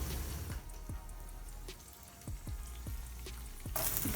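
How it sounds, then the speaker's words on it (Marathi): Cooking oil poured into a pan set out for frying potatoes, a steady trickling hiss broken by soft dripping ticks and a brighter splash at the close. "आता आपण तेल टाकूया."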